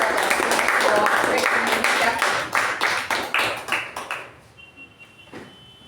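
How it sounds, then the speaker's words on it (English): Toastmasters meeting attendees give a round of applause for the role takers, a burst of mixed clapping that thins into a few scattered claps and fades out near the end. "Can we once again have a round of applause for all the role takers"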